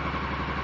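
A Honda VFR motorcycle engine runs at an assisted idle after a hard start, giving a loud, steady, close-up mechanical rumble with an even pulsing beat and no pauses.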